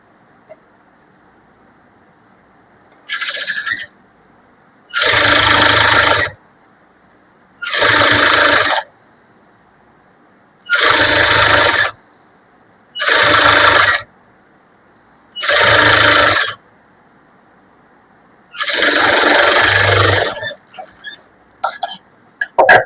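A sewing machine stitches the folded back seam of a blouse in six or seven separate bursts of loud, steady whirring, each a second or two long, with silent pauses between them and a few faint rattles at the end.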